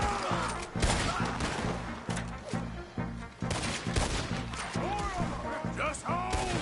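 Red Dead Redemption 2 gunfight with rapid, irregular volleys of rifle and pistol shots, some close and sharp, others duller. Voices and short ricochet-like whines mix through the firing.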